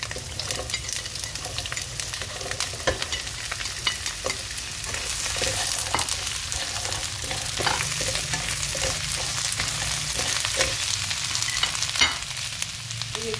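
Leeks and oil stir-fried in a pan for a vegetarian dish give a steady, close sizzle, with scraping strokes from stirring throughout and no talk.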